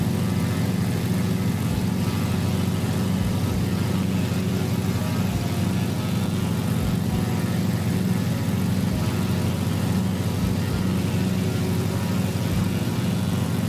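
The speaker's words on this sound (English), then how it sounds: "I think they need to do a little work on the sounds for the Piper Arrow." A Piper Arrow propeller plane in Microsoft Flight Simulator drones steadily, its loud continuous engine hum and propeller buzz holding at an even, slightly boxy tone throughout.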